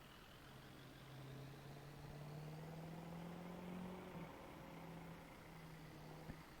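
A truck in Farming Simulator 22 drives along a road, a faint, steady low engine drone that rises and falls slightly, with soft background noise and a small knock near the end.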